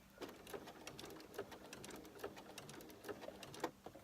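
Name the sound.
sewing machine stitching a quilt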